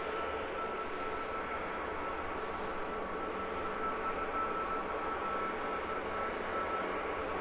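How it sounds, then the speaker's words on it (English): An EasyJet Airbus A319 taxis out from the gate at London Luton Airport, a steady distant engine rumble and whine that holds evenly throughout, no voices. "So another EasyJet making its way out from gate in the background. That one, a little A319"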